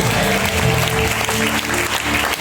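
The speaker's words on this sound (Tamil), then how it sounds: "நல்லா கைத்தட்டி ஆமென் சொல்லுங்க" A church congregation at a fifth-anniversary service claps heartily together, dense and continuous, with sustained musical tones humming underneath.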